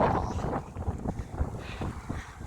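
Wind blowing outdoors, gusting into a microphone as rough, rumbling buffeting that rises and falls over a couple of seconds, no voices.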